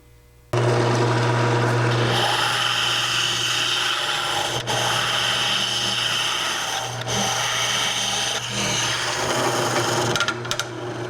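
A cutter scrapes and rasps against a cherry burl bowl spinning on a wood lathe, a continuous close grinding whir under a steady motor hum, with brief dips and catches where the tool bites unevenly.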